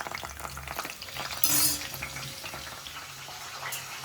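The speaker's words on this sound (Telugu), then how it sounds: "రొయ్యి పొట్టు కూడా వేపేసుకుంటున్నాను నేను" Prawn shells frying slowly in oil in a small kadai, a gentle continuous sizzle with a brief louder burst of hissing partway through.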